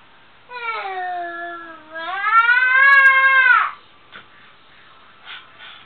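Cat meowing indoors during a laptop screen replacement, two drawn-out wavering meows in a row, fairly close and clear, followed by faint soft noises.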